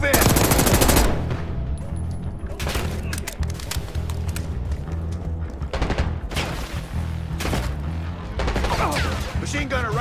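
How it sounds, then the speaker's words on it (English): Dense gunfire in the Call of Duty Black Ops 6 video game: bursts of rapid automatic fire and heavy booms over a rumbling battle din, loud and close, with shouted commands mixed in. "Hostiles, open fire!"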